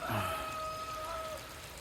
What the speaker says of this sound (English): So, lovely. New stream. It's a lot of water.